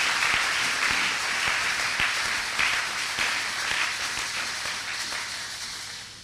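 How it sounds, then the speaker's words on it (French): A church congregation applauds steadily during a worship service, many hands clapping in a dense, sustained roar with a few sharper nearby claps, slowly fading toward the end. "Maintenant on acclame pour la parole de Dieu"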